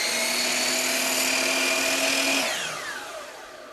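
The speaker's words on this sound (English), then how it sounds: "So I'll cut a 45-degree mitre on one end" A power saw cuts a 45-degree mitre through XPS polystyrene cornice, a loud steady high whine for over two seconds, then the pitch drops and fades as the blade spins down.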